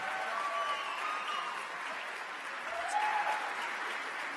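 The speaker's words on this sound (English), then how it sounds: "One more round of applause for these awesome seniors." Steady audience applause fills a spring choir concert hall as the crowd claps for the graduating seniors, a dense, even wash of many hands at moderate distance with no talking.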